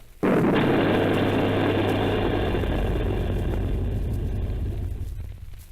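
An artillery gun fires a shell in a radio drama set during a Martian invasion, a single loud boom that swells into a long, heavy rumble and slowly fades over several seconds, with no voices.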